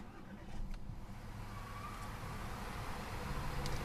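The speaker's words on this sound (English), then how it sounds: "once you put your foot on the brake, you can simply turn the key to fire up the engine" An Audi A3's 2-liter turbocharged four-cylinder engine fires up and settles into a steady, fairly close idle rumble with a broad, even roar.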